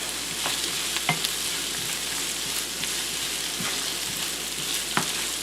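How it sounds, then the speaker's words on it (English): Vegetables and garlic sauté in a pan, giving a constant close sizzle with scattered sharp pops and light utensil clicks, with no voices. "Okay, so they've been sauteing for a few minutes. We'll add in our garlic now."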